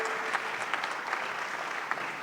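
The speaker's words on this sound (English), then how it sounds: "Give a big clap for him." A conference audience at an opening plenary bursts into dense, steady clapping that fills the room evenly for a couple of seconds, with no voices over it.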